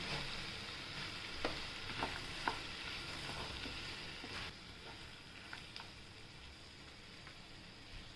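Spinach, pea and potato sabzi fries in a pan with red chili and turmeric, giving a steady, close sizzle with soft stirring scrapes and small crackles throughout.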